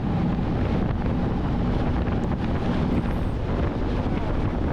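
Heavy, steady wind roar buffets a 2023 Honda Transalp 750 motorcycle ridden at speed, a loud, constant rushing that drowns out everything else.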